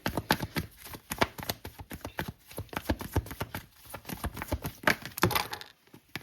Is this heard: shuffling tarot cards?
yes